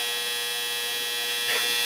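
A home clothes dryer runs with a steady electric hum and whir, constant and fairly close, with a brief rise in noise near the end.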